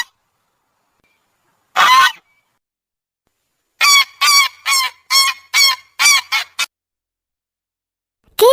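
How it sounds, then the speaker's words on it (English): A goose honks loudly and close, one call then a rapid series of about eight honks in quick succession, alone with no talk. "Goose."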